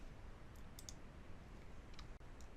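A few soft, quick computer mouse clicks come in two small clusters over a low hiss, faint and close, with no talk.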